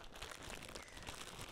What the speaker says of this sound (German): Ich glaube, wir müssen das erstmal aus der Tüte holen.